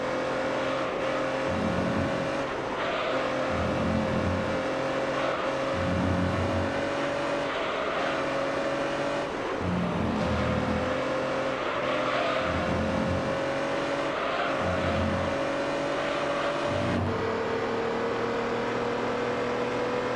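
Race car in the video game Gran Turismo 3, its engine droning and revving through repeated gear shifts, each rising pitch sweep broken by a brief dip, with steady tire and road noise underneath.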